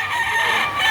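A gamecock crowing at a fowl market in Padre Garcia, Batangas, a single close, loud, strained cock-a-doodle-doo call lasting under a second.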